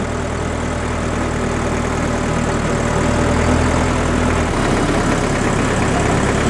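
A restored 1961 Porsche Diesel Master 418 tractor with an air-cooled four-cylinder four-stroke swirl-chamber diesel engine idles close by, a steady low throbbing drone that shifts slightly in pitch near the end, with no speech.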